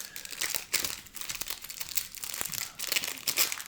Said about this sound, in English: I'm going to sleeve all the 11th cards just in case.